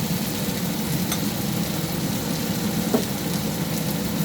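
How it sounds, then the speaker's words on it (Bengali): Tomato and ground spices sautéing in a pan for a Bengali fish curry give a steady, fairly loud sizzle and hiss throughout, with a soft scrape of stirring near the end. "এবার ভালো করে কষিয়ে নেবো।"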